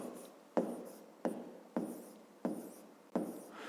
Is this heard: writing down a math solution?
yes